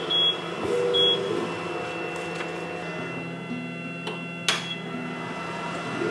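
An xTool M1 laser machine framing artwork gives a couple of short electronic beeps, then a low steady motor hum with faint ticks and a brief sharp click, quiet and close with no voices.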